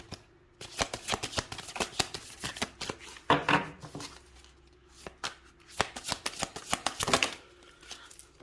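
Tarot cards shuffled by hand, a steady run of crisp riffling and slapping close by, with brief louder bursts and no voices, quiet overall.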